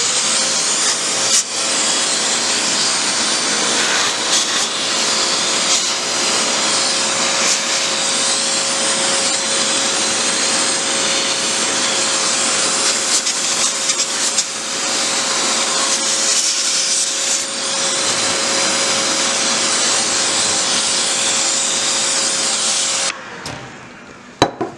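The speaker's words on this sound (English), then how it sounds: "take your nozzle of your vacuum cleaner and just suck it off" A vacuum cleaner nozzle sucks dust out of a PC case in a steady, loud, continuous whine with a faint tonal hum, running unbroken for nearly the whole stretch before cutting off near the end.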